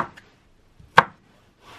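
A knife chops through a strawberry on a cutting board in a few sharp, separate strikes, close and crisp against near silence.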